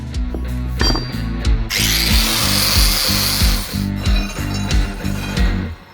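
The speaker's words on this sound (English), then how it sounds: "I'm going to clean up all the corners and stuff with the angle grinder" An angle grinder works over the corners of a 150cc four-stroke engine barrel, whining loudly up close with repeated rhythmic chattering bites as the disc catches the metal and one stretch of harsh hissing grind.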